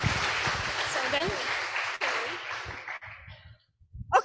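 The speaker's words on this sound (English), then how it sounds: "Give a applause." An audience claps together at a nursing department guest lecture at Poltekkes Denpasar, a dense wash of applause that fades out over a few seconds while a speaker talks over it.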